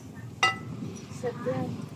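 Drinking glasses at a market stall give a sharp single clink followed by softer glassy knocks as they are handled, set against busy background chatter and ambient noise.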